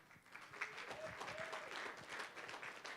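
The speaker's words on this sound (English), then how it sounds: "I didn't know I could get claps" A school district community celebration audience breaks into steady applause, a dense wash of clapping filling the room for a few seconds with a faint voice briefly audible underneath.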